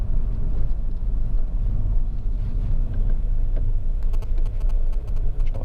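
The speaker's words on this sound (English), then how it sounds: "What I'm going to do for a few minutes is shut up and just drive, so you can just kind of see the car in motion" Honda Civic 2.2 i-CTDi Sport diesel car driving, heard from inside as a steady low engine drone and road rumble with no speech, and a few faint ticking sounds toward the end.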